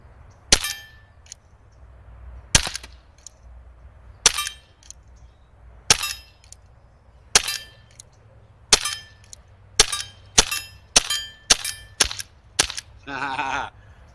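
A Crosman Triple Threat air gun fires 12.6 grain Howler slugs at steel targets, about a dozen sharp cracks each paired with a metallic ping, spaced unevenly and then coming faster toward the end, loud and close with no talk.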